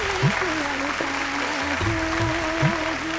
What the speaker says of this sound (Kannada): ಅವ್ರಿಗೆ ಕೊಡಬೇಕು ಚಪ್ಪಾಳೆ ಆ ತಾಯಂದ್ರಿಗೆ